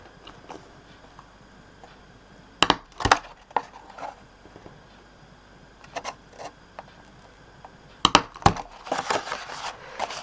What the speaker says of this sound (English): this is my 1/4 inch circle punch